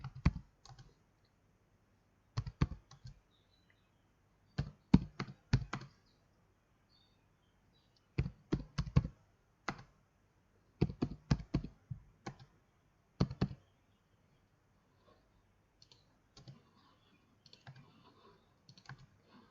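Computer keyboard typing in short bursts of quick clicks separated by pauses, close and fairly quiet in an otherwise silent room.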